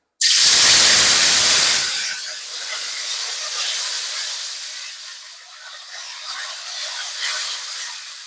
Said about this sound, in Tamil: எண்ணெய் சூடாயிடுச்சு. கருவேப்பிலை அதில் சேர்த்துக்கலாம்.